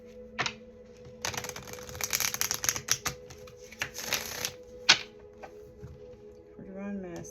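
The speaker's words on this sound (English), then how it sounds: "I already shuffled these for divine masculine. So I'll shuffle them in." Tarot cards being shuffled by hand, a quiet run of crisp riffling and flicking bursts with small taps, under a low steady hum.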